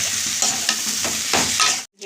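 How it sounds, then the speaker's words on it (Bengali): Cumin, red chilli, Kashmiri chilli and turmeric powders stir-fried into a masala in a pan for an egg and cauliflower curry, a close continuous sizzle with scraping stirs that cuts off abruptly. "জিরের গুঁড়ো, লাল লঙ্কার গুঁড়ো, তার মতো হলুদ, কাশ্মীরি লঙ্কার গুঁড়ো দিয়ে ভালো করে মশলাটাকে কষিয়ে নেব।"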